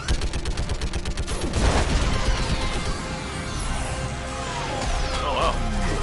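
Weapon fire in the video game Mass Effect 3: a dense, sustained barrage of rapid gunshots and blasts that stays loud and close for the whole stretch, with a heavy impact near the middle and no voices.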